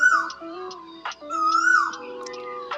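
A peacock calls from a mango tree in a village garden. Its drawn-out tonal cries rise and fall among other chirping birds, and no one talks.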